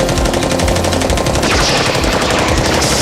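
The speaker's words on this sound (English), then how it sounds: "but we actually hear the sounds of real bullets." Rapid bursts of real bullet gunfire play as the sound of cartoon laser guns in an animated battle scene, a dense, loud rattle of automatic shots that runs continuously through the whole stretch.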